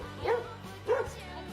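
A dog barking twice in a short TikTok clip, two separate woofs spaced less than a second apart, moderately close over a quiet background.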